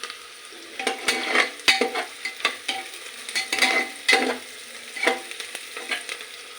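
Onions fry in a pan for khichdi and sizzle steadily while a spoon scrapes and stirs them in repeated clinking strokes, close up and with no talking.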